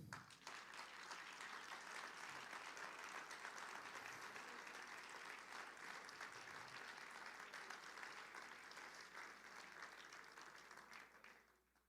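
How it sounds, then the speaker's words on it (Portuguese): Sustained applause from a church congregation at a worship service, many hands clapping in a dense, even wash that holds steady before tapering off at the end. "Vamos aplaudir o nome do Senhor."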